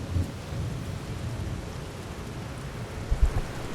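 Heavy rain pours in a steady wash, with low thunder rumbling and a sharper thunder burst near the end; no one speaks.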